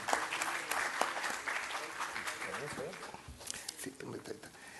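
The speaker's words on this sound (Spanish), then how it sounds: "Quisiera pues que le demos primero un aplauso de bienvenida al señor congresista" Welcoming applause for a congressman at a consumer protection event, dense sustained clapping from a crowd that continues throughout with some murmuring mixed in.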